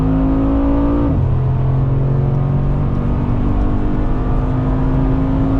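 A Mercedes-AMG G63 with a 4-liter twin-turbo V8 pulls hard from around 80 to 100 km/h, its engine note dropping with a gear change about a second in, then climbing steadily as a loud, continuous roar.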